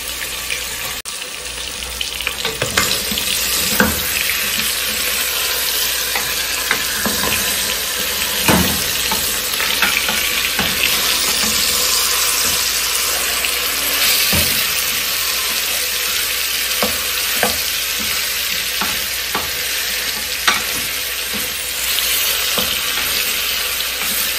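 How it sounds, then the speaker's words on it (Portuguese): Chicken pieces for stroganoff fry steadily in a pan, giving a loud, continuous sizzle that runs for the whole stretch, with occasional clinks and stirring scrapes popping out of the hiss. "Já virei, aí eu vou deixar fritar esse lado aqui também."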